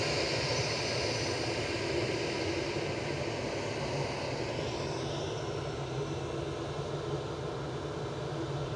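An Airbus A320 Classic departs Manchester Airport bound for Bilbao, its jet engines producing a steady, moderately distant broadband roar that holds evenly, with a faint shifting whine partway through.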